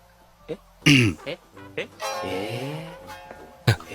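A couple of sharp, harsh coughs burst out amid a person talking, one near the start and another near the end.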